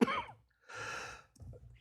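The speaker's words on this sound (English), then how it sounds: "So sorry to cough in your ears." A person coughs twice in quick succession, close and fairly quiet, with a short breathy pause between the bursts.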